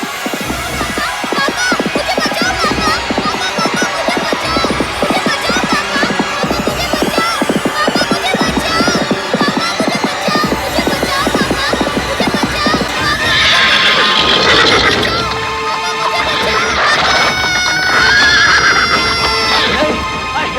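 Horse neighs and whinnies over a steady clatter of hooves, loud and close throughout, with a couple of louder bright calls near the end; no voices.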